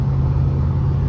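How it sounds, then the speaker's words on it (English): A Volvo car engine labors steadily uphill in fourth gear, a loud, continuous low drone heard from inside the cabin with no voices. "we're going uphill right now in 4th gear and not really struggling all too much"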